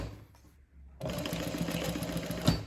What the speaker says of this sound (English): Now I'm going to go ahead and top stitch all the way across